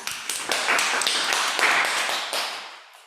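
A small group applauds a volunteer at a Toastmasters-style club meeting, with several distinct claps quickly building into brisk, moderately close clapping that tapers off over a few seconds.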